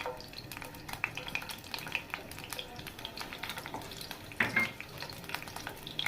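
Finely chopped garlic fries in plenty of cooking oil over a low flame for a masoor dal tadka: a continuous close sizzle broken by scraping stirs and occasional clinks of a utensil against the pan.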